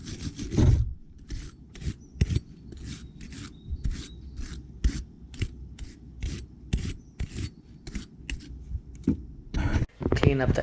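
A wire brush scrubs the inner surface of a BMW E90-series rear wheel bearing housing wetted with brake cleaner. It makes rapid, repeated rasping strokes, loud and close, with a brief pause near the end.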